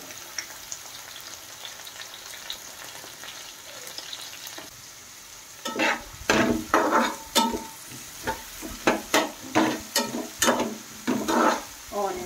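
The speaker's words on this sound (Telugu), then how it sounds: "ఆనియన్స్ మిర్చి ఫ్రై చేసుకోవాలి." Onions, green chillies and curry leaves fry in a pan: a quiet hissing start, then loud bursts of sizzling and crackling in a rapid, uneven rhythm as they are stirred, close and clear.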